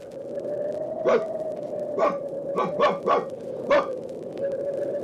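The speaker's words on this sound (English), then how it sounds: "It's Yukon King, swiftest and strongest lead dog of the Northwest" Husky sled dogs bark in a radio drama sound effect, a series of sharp barks spaced irregularly over a steady low hum, fairly close and clear with no talk.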